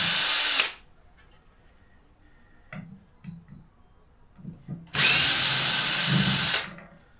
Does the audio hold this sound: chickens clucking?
no